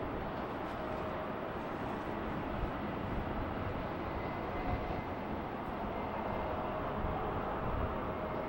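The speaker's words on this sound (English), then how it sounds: "Up next, the E175 of KLM City Hopper." A KLM Cityhopper Embraer E175 airliner rumbles at Schiphol on a foggy day, a broad steady engine roar heard from a distance with a faint whine above it.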